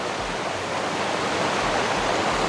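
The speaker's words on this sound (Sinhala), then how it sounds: "අර ඈතින් පේන්නේ ගලපිටියාය දියැල්ල." Galapitiyaya waterfall roaring steadily as a continuous broadband wash of falling water, loud and unbroken throughout with no voices.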